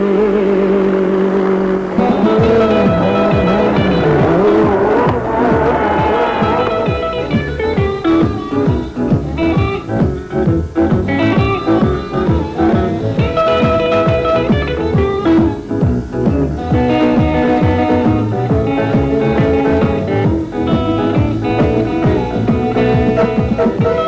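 Rally cars climbing a 9-kilometer hill course in the 1993 Pharaohs Rally, engines loud and continuous with rising revs and gear changes, mixed with music.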